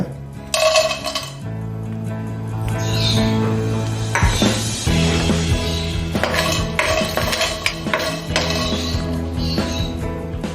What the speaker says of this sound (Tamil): பட்டையை போட போகிறோம். பட்டை போடுற முன்னுக்கு உடைச்சிருங்க.